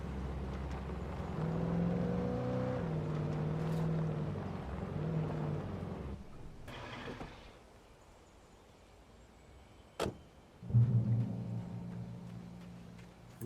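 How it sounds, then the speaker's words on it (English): Car engine noise in the video game Alan Wake Remastered, a low droning hum with wavering pitch that fades out near the middle, followed by a sharp knock and a renewed engine rumble. "The car noises remind me of GTA 3 somehow."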